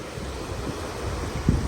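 Atlantic Ocean waves wash onto a beach, a steady low rumble of surf mixed with wind buffeting the microphone, with a slightly louder surge near the end; no talk is heard.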